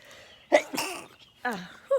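A quick, close sneeze bursts out twice in a quiet kitchen, sharp and breathy with short gaps, followed by a faint voice.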